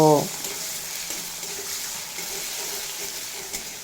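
Salted potatoes fry in a pan over a medium flame, giving a steady, fairly soft sizzle that runs on evenly after a brief tonal sound at the very start.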